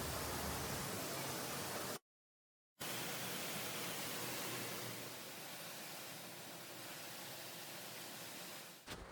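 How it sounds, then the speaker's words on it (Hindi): Steady broadband rush of the waterfall in Hong Kong Park, loud and continuous with a brief dropout, no voices. "और ये है यहाँ का वाटरफॉल, इसके पीछे बहुत अच्छा फ़ोटो स्पॉट भी है।"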